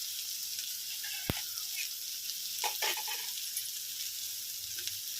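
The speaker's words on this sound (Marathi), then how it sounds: "शिमला मिरची छान अशी थोडी परतून घेऊया तेलामध्ये" Capsicum sautéing in hot oil gives a steady soft sizzle, with one sharp utensil tap and a few brief stirring scrapes against the pan.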